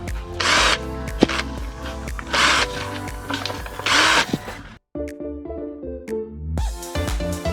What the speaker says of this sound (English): went around with the drill to actually make the opening